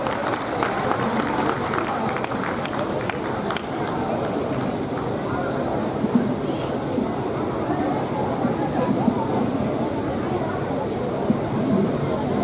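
Sustained applause from an audience at an Uttarakhand Mahotsav poetry gathering (kavi sammelan), welcoming a poet to the stage; a steady, dense wash of clapping and crowd murmur that holds at an even level throughout.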